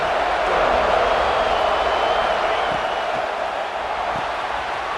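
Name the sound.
stadium crowd noise in College Football 26 video game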